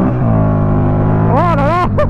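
Harley-derived V-twin of a Buell XB9S motorcycle running loud and close, a steady low-rpm rumble with strong harmonics, then a couple of rising revs near the end while someone speaks over it.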